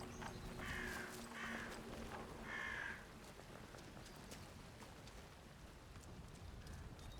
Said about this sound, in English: I'm just gonna run away from the birds.